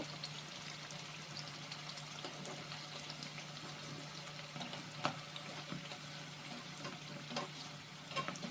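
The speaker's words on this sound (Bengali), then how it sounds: "উল্টে পাল্টে উল্টে পাল্টে ভাজতে ভাজতে এরকম লাল লাল করে ভাজা হয়ে গেল" Badam puri, a sweet, frying in hot oil while being turned, giving a steady, close sizzle with soft stirring clinks throughout and no talking.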